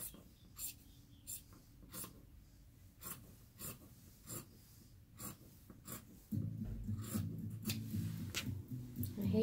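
Scissors slice through two layers of fabric in a steady series of short soft snips, close and quiet, with a lower rubbing drag joining toward the end.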